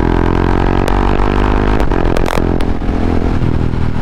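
A loud, steady single-cylinder Husqvarna Vitpilen 701 motorcycle engine idling low and throaty up close at low revs, with a few sharp clanks and rattles over the rumble.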